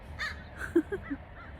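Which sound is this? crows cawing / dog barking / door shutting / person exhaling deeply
crows cawing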